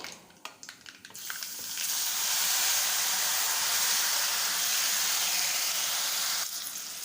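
Freshly grated radish and its juice hit a tempering in hot sesame oil with a few sharp crackles, then a loud, steady sizzling hiss swells and holds close up for several seconds before easing slightly at the end.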